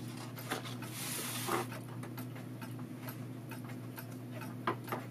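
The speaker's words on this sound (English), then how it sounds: "Here's a RCA timer that may have been used on a RCA alarm clock or other similar product" A Westclox-made RCA timer or clock mechanism ticks quietly, a faint steady tick-tock pulsing at a regular pace over low background hum, with no voices.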